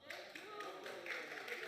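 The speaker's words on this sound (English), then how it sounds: "No, I don't want any clapping." Scattered applause in a parliament chamber, with light irregular claps and taps over a murmur of voices and room noise, fairly faint and distant.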